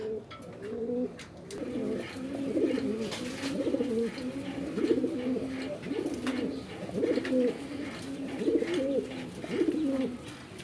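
Pigeons coo steadily at a pigeon market in low, throaty, rolling calls that overlap one another, with faint higher chirps and some background noise.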